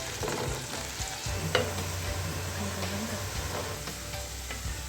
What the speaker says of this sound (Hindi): और प्याज को जो है वो मैं गोल्डन ब्राउन करूँगी